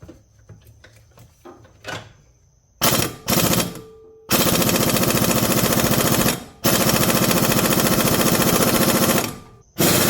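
Impact wrench with a chrome socket removing the harmonic balancer bolt on a Chevrolet Corvette Z06 engine: a few light clicks and clunks, then loud, close bursts of rapid hammering, with two long sustained runs separated by short pauses.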